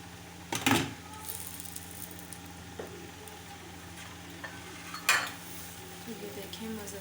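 Garlic, ginger and green chili tempering tipped into a pot of dal, with a sharp clatter of the pan at the start, a brief sizzle, then a second metal clank near the end over low background hiss.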